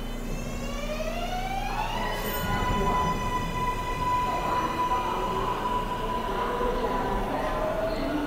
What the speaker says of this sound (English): The train's about to go.